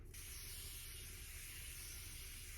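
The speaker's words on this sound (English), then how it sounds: "end it with setting spray" A setting spray mists onto a face in one continuous, even hiss that starts abruptly and holds steady throughout, close and fairly quiet.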